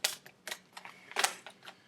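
A deck of tarot cards is shuffled up close, making a quick series of soft, crisp riffling snaps spaced irregularly, fairly quiet and without talk.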